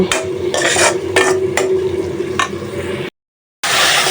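Onions being stirred in a hot pan for a Bangladeshi fish curry, with steady frying sizzle and repeated scraping strokes of a utensil against the pan, close and loud, cutting off briefly before resuming.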